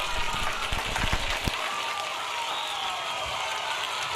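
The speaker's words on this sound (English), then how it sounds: "Oh, applause." Concert audience applause, a continuous wash of clapping at moderate level with a few sharper individual claps near the start, and faint voices underneath.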